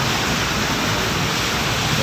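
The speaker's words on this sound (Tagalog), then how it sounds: "Ayan, may tubig, eh." Steady rushing splash of running water from an indoor water feature at SM North EDSA mall, a dense continuous hiss close by with no break.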